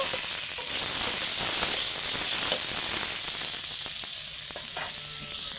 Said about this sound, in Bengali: দুটো পাঁচ ফোড়ন দিয়ে দিয়েছি তেলে আমি এখানে সর্ষের তেল ব্যবহার করছি